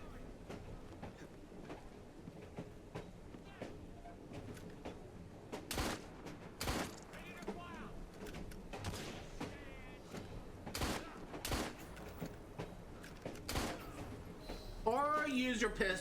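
A handful of sharp, separate pistol shots crack out in Assassin's Creed Syndicate, spaced a second or more apart over a steady rumble of game ambience, with a voice talking in the background.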